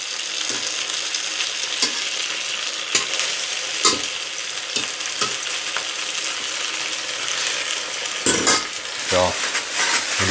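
Salmon-filled pierogi sizzle and crackle steadily as they fry in butter in a pan, with occasional scrapes and clinks of a utensil stirring them, no talking.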